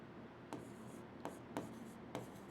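Chalk or pen writing on a board during a maths lecture: four short, sharp tapping strokes spaced about half a second apart over a steady low room hum, no one speaking.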